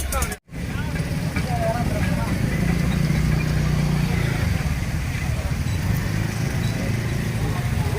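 A campaign vehicle's engine runs with a steady, loud rumble through the whole stretch, while voices carry over it.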